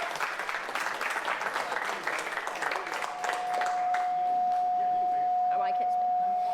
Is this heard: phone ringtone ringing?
no